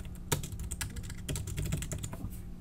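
Rapid, steady typing on a computer keyboard, with dense close-up key clicks over a low background hum.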